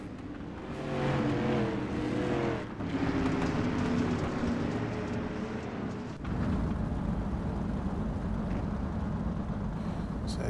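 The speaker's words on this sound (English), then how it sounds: "take a look at some of the close-ups on these race cars" Street stock race cars roaring around the Volusia dirt track, a dense, continuous engine rumble that surges and shifts as the cars pass, loud throughout with no pause.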